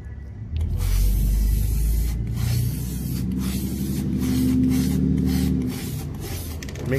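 Aerosol spray paint hisses in long continuous bursts onto a deep dish weight plate, close and loud, with brief pauses between passes.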